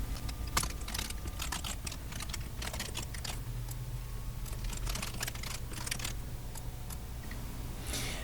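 Fingers type account details on a computer keyboard in quick, uneven bursts of close, clicky keystrokes with short pauses, over a faint low hum and no speech.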